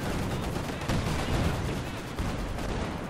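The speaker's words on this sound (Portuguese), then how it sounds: "Tá metendo bala aí pra tudo quanto é lado" Gunfire in Company of Heroes 2 during a Soviet campaign battle: dense, continuous bursts of shots and distant artillery crackle layered into a constant loud din, with no voices.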